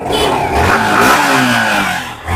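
A used motorcycle at a bike showroom near Kolkata, about 13,000 km on the clock, its medium engine revving loudly and continuously at close range, rising and falling with throttle blips and slight mechanical clatter.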